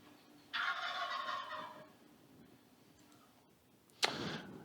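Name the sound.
wild turkey gobbling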